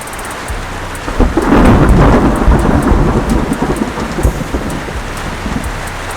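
Heavy rain pours steadily while a loud thunder rumble rolls in and swells, then fades back into the constant downpour of a thunderstorm.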